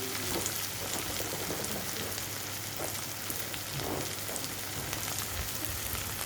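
Food sizzles steadily in a hot pan while dal makhni cooks, a constant crackling hiss with faint stirring, no talk over it.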